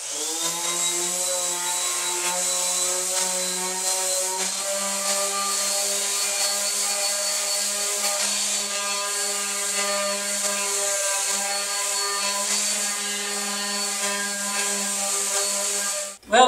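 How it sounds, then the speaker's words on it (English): Wood pieces get sanded with 120 grit sandpaper, a loud, continuous buzzing machine whine with a steady pitch that runs unbroken, then cuts off abruptly with a final clunk. "we're just going to hit all these pieces of wood with some 120 grit sandpaper"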